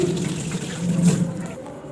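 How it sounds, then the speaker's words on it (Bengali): Hands are scrubbed with hand wash under a running tap in a home kitchen sink, giving a steady close splash and trickle of water that swells briefly midway, with no talk. "এখন ভালো করে হাতটা ধুয়ে নেবো হ্যান্ড ওয়াশ দিয়ে"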